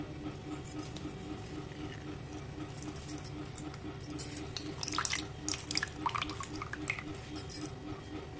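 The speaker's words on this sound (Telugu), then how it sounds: "కట్ చేద్దాం ఇలా నిమ్మరసం అయితే తీసేసుకుందాం" Two large cut lemons are squeezed for their juice. Soft, scattered drips and splashes of liquid cluster in the second half over a quiet, steady low hum, with no talking.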